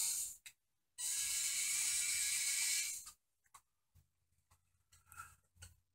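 Motors on a 3D-printed, half-scale, remote-controlled Robie Junior robot give a loud whirring burst of about two seconds, followed by scattered short mechanical clicks and ticks.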